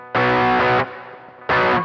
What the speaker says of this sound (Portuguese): eu vou testar um nível de reverb maior